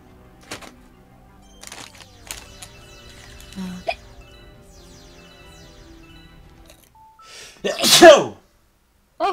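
A single loud, sharp sneeze bursts out near the end, preceded by quieter scattered sounds and faint background noise, with a person nearby during a casual gaming stream.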